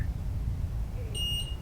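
Inside the Bell Witch Cave, an unexplained electronic beep sounds once, short and thin, near the end, over a low muffled rumble of cave ambience.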